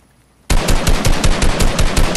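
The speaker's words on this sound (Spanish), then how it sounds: "Lo maté de un balazo a ese tío." Rapid bursts of automatic gunfire from the video game Fortnite start abruptly after a short silence, loud and close, with shots rattling in quick succession throughout and no talking.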